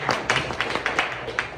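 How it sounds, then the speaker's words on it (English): Applause from an audience at a forum, a short burst of many hands clapping at close to moderate distance, steady and fairly loud with a few sharper individual claps. "so please, applause."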